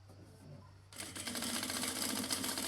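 A sewing machine stitches the folded hem of girls' cotton shorts, starting abruptly after a quiet moment and then running steadily, fairly loud and close, with no talk.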